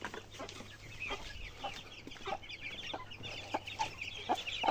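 Chickens and chicks cluck and peep in a farmyard, several birds calling in short irregular bursts over a steady low hum, with no one speaking.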